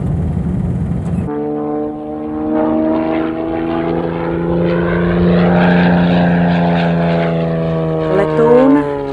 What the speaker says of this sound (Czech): Letoun, na který se teď díváte, je Zlín 50 LS.